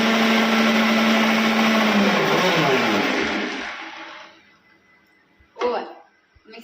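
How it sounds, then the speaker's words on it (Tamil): A mixer grinder whirs loudly for about three seconds, then winds down to quiet, followed by a brief clatter. "மிக்ஸி அரைச்சாச்சு."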